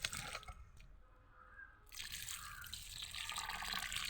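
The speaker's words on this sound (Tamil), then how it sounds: "இந்த தண்ணி தான் ஊற்றுறேன் எல்லாத்துக்கும்." Water is poured over garden plants, including eggplant plants, making quiet splashing and trickling with a brief lull midway and no talking.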